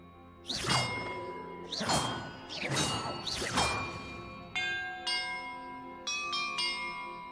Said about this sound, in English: Perhaps the map contains clues about the order I'm supposed to ring the bells in